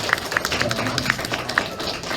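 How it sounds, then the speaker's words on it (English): Audience applause for teachers at a fifth-grade commencement ceremony: uneven, fairly light clapping with a few sharper individual claps standing out, mixed with crowd noise and some talking. "we want to just give your teachers a round of applause"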